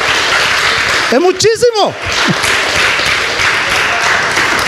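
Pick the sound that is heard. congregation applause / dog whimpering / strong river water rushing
congregation applause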